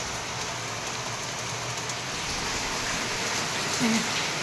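Torrential rain pours down outdoors in a steady, dense hiss that fills the whole stretch evenly, heard from a moderate distance with no talk.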